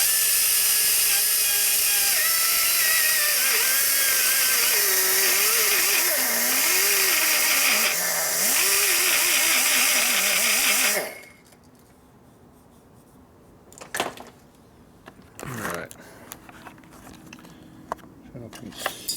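A big cutter grinds through a part of a 1941 Harley WL 45 flathead stroker motor, a loud wavering whine that lasts about eleven seconds. Quiet shop noises and a few knocks follow.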